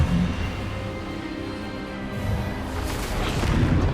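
Expelliarmus spell cast in Hogwarts Legacy: a loud, broadband magical blast and crackling burst that fills the clip, rumbling continuously with a surging swell near the end.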